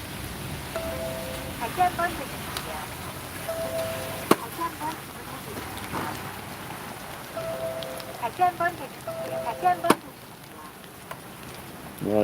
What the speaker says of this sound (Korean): 이제 비가 오니까